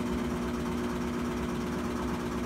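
Washing machine motor running through its spin cycle, a steady close hum with a strong low tone and even mechanical drone, unbroken throughout.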